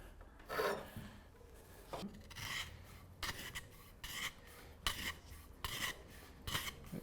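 A tapered tenon cutter shaves wood on a chair part, making repeated rasping, scraping strokes at an irregular rhythm, close and moderately loud, with no talking.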